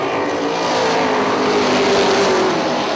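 Race cars at Punta Gorda Speedway roaring around the track on a restart, a loud, steady engine drone with pitch sweeping as the field passes close by, no voices.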